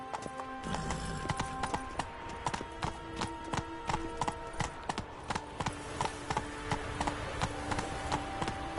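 Hooves of the horse Roach clip-clop in a steady, close, even gait through The Witcher 3: Wild Hunt, with soft ambient game sound behind.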